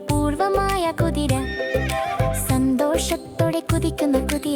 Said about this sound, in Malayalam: കുതിര കുതിര കുതിര, കൃഷിസ്ഥലങ്ങളിൽ ദൗത്യത്തിൽ കുതിക്കുന്ന കുതിര.